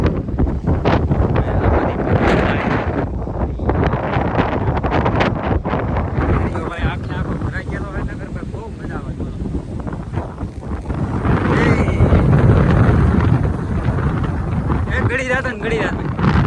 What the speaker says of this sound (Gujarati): કાંઈ પવન આવી છે